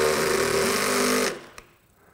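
A DeWalt Xtreme 12V sub-compact drill/driver driving small screws: a steady high-pitched motor whine for over a second that stops abruptly, followed by a faint click and quiet.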